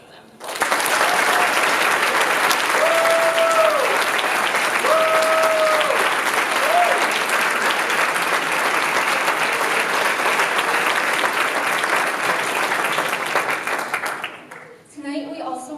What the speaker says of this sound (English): Please join us in applauding them.